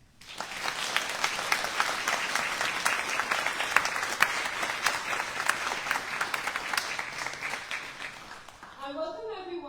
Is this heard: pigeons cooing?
no